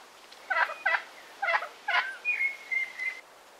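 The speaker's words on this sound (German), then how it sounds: "Und hier ist auch Herr Puter." A farmyard turkey at an open-air village museum gobbles in several loud, close bursts, each a rapid rattling call, followed by a thin sustained whistle-like note, with no talk over it.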